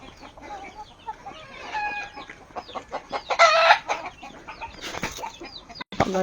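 Chickens and roosters around a house in Tacloban, Philippines, clucking busily with a couple of louder crowing calls rising over the flock, close by and continuous.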